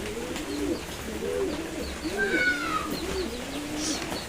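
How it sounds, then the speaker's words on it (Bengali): Pigeons coo softly inside a loft on a rainy day, several low rolling calls repeating at a steady pace amid faint background noise, with a brief higher chirp from another bird in the middle. "পায়রারা সব চুপচাপ বসে আছে।"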